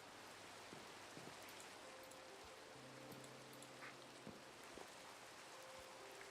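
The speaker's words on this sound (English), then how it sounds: "I really am glad it's raining because it makes my crops grow" Steady rain falls in the blocky survival game Minecraft, a dense, even hiss of drops throughout with a few faint tones and clicks from the game behind it, and no talking.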